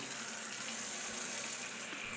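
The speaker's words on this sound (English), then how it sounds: "Lastly, I fill up a bowl with hot, soapy water" Hot soapy water runs from a tap into a bowl in a pottery studio, a steady close rush of flowing water that fills the whole span without pause.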